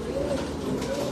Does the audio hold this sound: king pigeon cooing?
yes